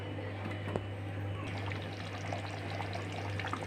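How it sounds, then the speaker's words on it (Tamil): Tamarind water poured into a simmering fish curry of kavalai fish, a steady close pour and trickle of liquid over a low constant hum, with no speech. "இப்போ நம்ம புளி ஊற்றிட்டு நம்ம மிக்ஸ் பண்ணிக்கலாம்."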